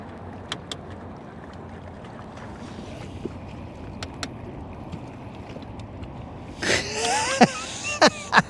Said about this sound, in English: I should be okay to just turn the main motor on for that one little stretch